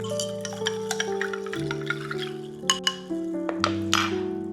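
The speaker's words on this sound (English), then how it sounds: "All you need to do is stir." A spoon stirs an apple cider pumpkin spice spritzer in a glass, giving light clinks and tinkling ringing tones across a few seconds, close and gentle with no talk.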